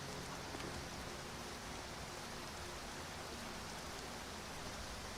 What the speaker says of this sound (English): The rain, my guy.